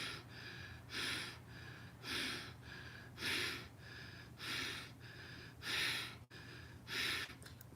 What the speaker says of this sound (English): taking a breath in through the nose and then exhale, releasing, guiding the navel inward